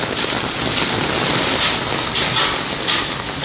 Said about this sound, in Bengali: মুষলধারায় বৃষ্টির সঙ্গে সঙ্গে শিলাবৃষ্টি